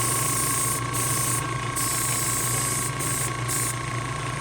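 A toy army man is spray painted green, a steady close aerosol hiss broken by brief pauses between bursts.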